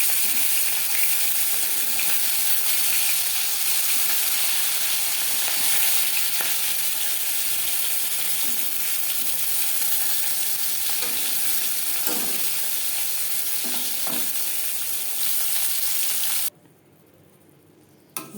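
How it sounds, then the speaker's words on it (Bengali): Pieces of katla fish fry in hot oil for Bengali-style doi katla, giving a steady, close sizzle that runs without a break and then stops abruptly near the end. "এক পিস ভাজা হয়ে গেলে অপর পিস উল্টে দেবো।"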